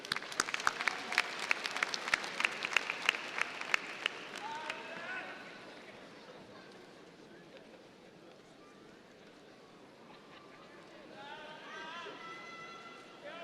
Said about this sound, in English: Let's give a Southern University round of applause for Dr.